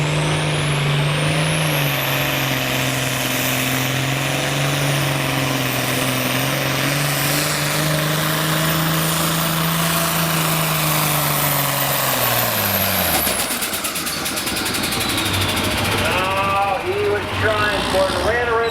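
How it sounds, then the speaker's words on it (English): An International 466 tractor at a tractor pull, its engine droning loud and steady with rising and falling pitch before cutting out abruptly and running out of power near the end, with a voice talking over the run. "Kurt Collins lines up the 466 International."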